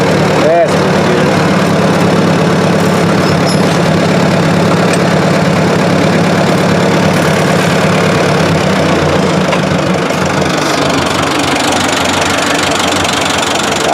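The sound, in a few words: Ford 2000 tractor engine running while driving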